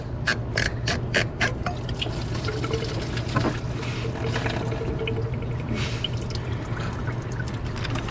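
Coolant pours and trickles steadily from a loosened thermostat hose on an Isuzu Ascender into a catch can below, a continuous close-up stream of liquid over a low steady hum.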